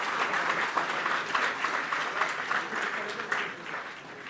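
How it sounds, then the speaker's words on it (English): Audience in a hall applauds at a live event on sustainable mining as guests are called to the dais, a steady wash of many hands clapping at even loudness, tapering slightly at the end. "louder applause"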